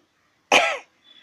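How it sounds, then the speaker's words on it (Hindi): A single sharp cough from a woman, loud and close, in an otherwise quiet moment, followed by faint breath. "दोस्तों, खांसी भी हो रही है।"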